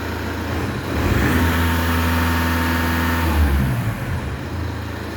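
A car engine revs up on a vehicle that had a P0132 lambda sensor fault, a steady idle rising into a sustained, loud rev for a couple of seconds before settling back down, with no talking.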